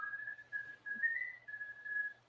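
A person whistles a steady, thin tone with slight wavering pitch, held for about two seconds with brief breaks, clear and fairly close against a faint low hum.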